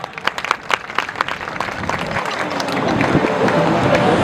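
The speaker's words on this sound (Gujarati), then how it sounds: "દરેક સભ્યો સ્મિત મેઘાણી અને મિશ્રી રાજપરાને તાળીઓના ગડગડાટથી વધાવે" A crowd at a village community gathering and prize-distribution event in Ahmedabad applauds two young hosts. Scattered claps at first, then swelling into a denser wash of clapping and crowd noise.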